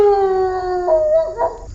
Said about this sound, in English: Dogs are howling.